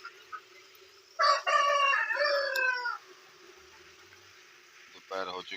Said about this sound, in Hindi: मुर्गों की अजानों की आवाज़।